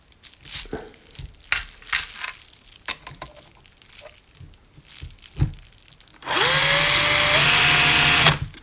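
Scraping and handling noises, then a power drill whines loudly for about two seconds near the end, drilling holes in metal for a BMW R80 motorcycle, its pitch rising as it spins up and cuts.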